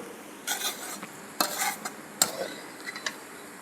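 Dry fruits tossed in a hot tempering, with a continuous sizzle and several sharp scraping strokes of a spoon against the pan, close and without speech.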